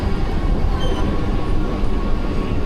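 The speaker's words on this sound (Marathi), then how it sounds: "आपल्या पाठीमागे एक ट्रेन येत आहे ती तुम्हाला सेंट्रल लाईनची ट्रेन येते लोकल ट्रेन आहे" A Mumbai Central line local train approaches with a heavy, steady rail rumble and roar, close and loud, with no talk over it.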